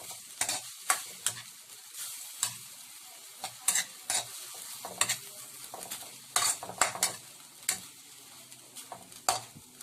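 Pancit canton noodles and vegetables stir-fried in a pan, with a steady sizzle under repeated sharp scrapes and clanks of a utensil against the pan at an irregular rhythm, close and fairly loud, no talking.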